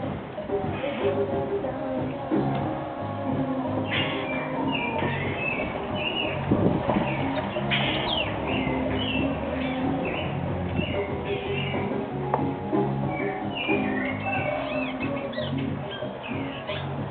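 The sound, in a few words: bare-throated bellbird (araponga) calling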